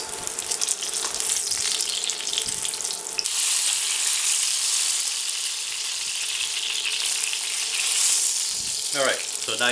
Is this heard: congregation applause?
no